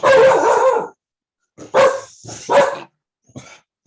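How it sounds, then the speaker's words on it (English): A dog barks loudly close by, a few sharp barks separated by short pauses, ending with a quieter final bark. "He's a very brave boy, barking at people walking past the house."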